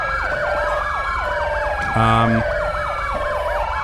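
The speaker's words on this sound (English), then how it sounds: "so these sirens stop blaring" A loud police siren in Grand Theft Auto V wails in a fast repeating up-and-down sweep, with a brief low electronic tone cutting in partway through; no voices.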